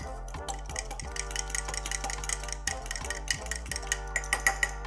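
A spoon stirs melted butter with lemon pepper, Cajun seasoning and dried parsley for stuffed lobster, making quick, repeated close clinks and scrapes against the bowl over a steady low background hum.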